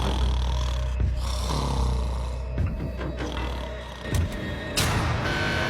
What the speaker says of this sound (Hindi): तुम्हारे खर्राटों ने सोने नहीं दिया